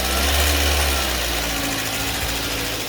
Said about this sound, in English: Give it some gas.